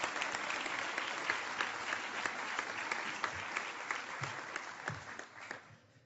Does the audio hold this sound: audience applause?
yes